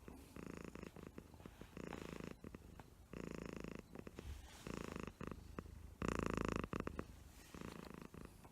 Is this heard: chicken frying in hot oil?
no